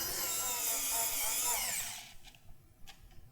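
Xiaomi Wowstick P1+ electronic screwdriver tightening screws: a thin high motor whine runs steadily for about two seconds and then stops, followed by a few faint clicks.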